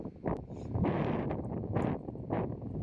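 Cold wind gusts across the microphone on a disc golf course, making a low, blustery rumble that swells and fades in uneven bursts and never fully drops away.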